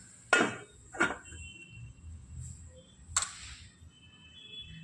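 Metal lid set down on a pan of broad bean pods cooking on a home stove, giving three sharp clanks at irregular spacing, with a faint kitchen hiss between them.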